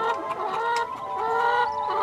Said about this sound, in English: There will be 150 chickens here, sort of all needing to have a once-over